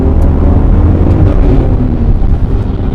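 BMW N54 engine with upgraded ignition coils pulling at full throttle in second gear from about 3,000 RPM, a loud rumbling roar heard from inside the car with heavy wind buffeting over it.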